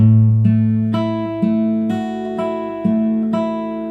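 Fingerpicked acoustic guitar playing an alternating-thumb pattern, steady plucked notes with a repeating bass line and ringing chords, close and clear with no talking.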